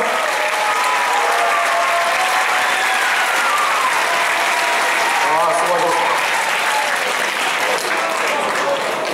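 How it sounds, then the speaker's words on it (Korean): Sustained applause from a crowd at a school festival event, steady and dense clapping filling the whole stretch with no individual voices standing out. "여기 수고하신 정용택 부장수님 자 박수"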